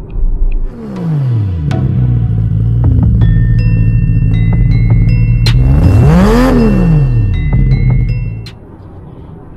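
A car drives along a road with a steady close engine rumble, shifting pitch as it accelerates and another vehicle rises and falls past, fading near the end; no talking.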